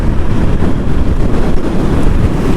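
Evening wind buffets the microphone during a cab ride from Sector V to the airport, a loud, steady rumbling gust noise with traffic-like drone underneath and no speech.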